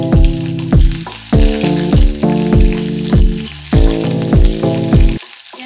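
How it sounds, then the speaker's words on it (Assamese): Chopped onions sizzle in hot oil alongside bay leaves for an Assamese sesame chicken, a steady bright hiss under a loud melodic music track with regular plucked notes. "অলপ ৰঙচুৱা হোৱালৈকে আমি ভাজি ল'ম"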